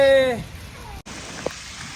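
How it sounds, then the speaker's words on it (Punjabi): A steady wash of rain patters continuously behind a brief tonal sound at the start, with a short sharp knock partway through. "ਮੀਂਹ ਪੈਣ ਲੱਗ ਪਿਆ ਬਈ ਤੇ ਅਸੀਂ ਨਹਾਉਣ ਲੱਗ ਪਏ"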